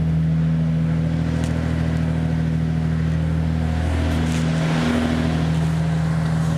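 Toyota Supra engine running steadily while driving, a loud continuous low drone with a faint swell partway through, close and alone without talk.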